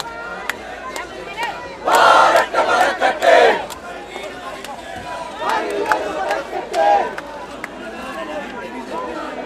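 Crowd at a political rally raising loud chants and cheers in bursts, swelling strongly early on and again midway, with shouting voices over a steady murmur.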